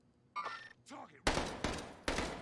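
Heavy-recoil gun firing in Call of Duty: Warzone gives three loud, close shots in quick succession, each with a short decaying tail, following a brief spoken moment.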